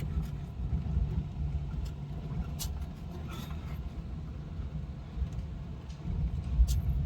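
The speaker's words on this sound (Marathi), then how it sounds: "गाडी चालली आपली डुगू डुगू" A vehicle travels along a village road under construction on the way to Kotwade's Sunday market, its steady low engine and road rumble continuing throughout with wind buffeting, and a faint voice appearing briefly.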